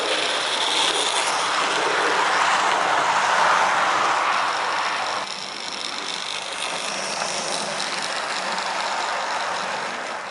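Model railway locomotive picking up speed on a layout, a steady mechanical whirring and rumbling that holds loud for about five seconds, then drops slightly and carries on evenly.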